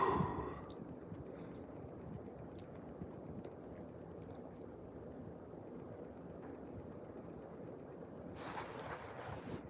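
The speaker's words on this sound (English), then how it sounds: "This is actually some good breeze here," Steady outdoor wind blows across a microphone, making a continuous low rumble and rush that stays fairly even throughout, with a slightly brighter gust near the end and no talking.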